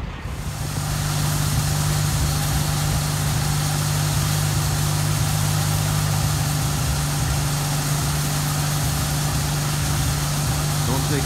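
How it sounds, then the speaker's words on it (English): A tractor-powered grain auger loading beans into a truck runs as a loud, continuous low engine drone with a steady hum and mechanical rattle, close by and unbroken throughout. "Don't take long to load a truck with a tractor powered auger."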